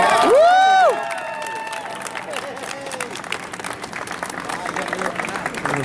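A crowd applauds and cheers in a sustained wash of clapping after a marriage proposal, opening with a loud high whoop.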